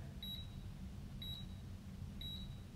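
A force-measuring device, a handheld gym gadget, gives three short high electronic beeps, evenly spaced about a second apart, faint over a low background hum.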